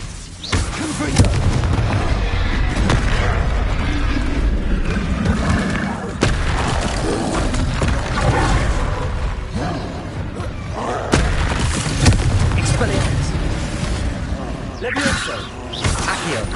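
Confringo spell blasts in the game Hogwarts Legacy go off repeatedly as booms and whooshes over a dense, busy game soundscape, with a voice speaking amid the explosions.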